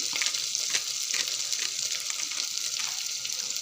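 Spices and chopped cauliflower frying in a pan for cauliflower fry, a steady bright hiss of sizzling oil with light stirring scrapes running throughout, close and unbroken, with no talk.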